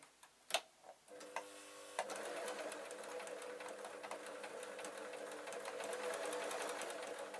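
A few clicks and taps open the clip, then a sewing machine stitches jelly roll strips for a log cabin quilt in a steady, close, continuous run.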